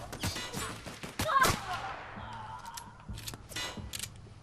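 Rapid gunfire from the video game The Outer Worlds, several close, loud bursts of hip-fired shots with sharp cracks and a brief ringing tail, mixed with game effects.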